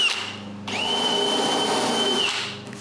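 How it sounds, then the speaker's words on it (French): A power drill bores holes in a wooden blanket chest for a cottage, its motor spinning up into a steady, close high whine for about two seconds before winding down. "je perce les trous"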